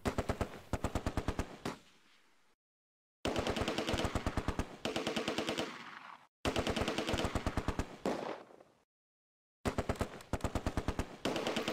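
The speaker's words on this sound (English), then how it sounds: "The Vickers again switches fire down the main road" Vickers machine gun in the WWII game Close Combat firing loud, rapid sustained bursts, four long strings of shots separated by short silent pauses.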